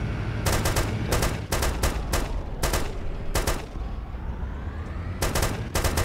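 Bursts of rapid gunfire from the video game Arma 2 rattle in quick clusters, loud and repeated, with short pauses between volleys over a rumbling background.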